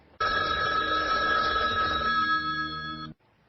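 An old telephone bell rings in one continuous metallic trill lasting about three seconds, close and loud, then stops abruptly.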